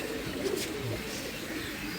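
A pair of imported Madrasi pigeons on a rooftop giving soft, low coos, faint and brief against quiet background hiss.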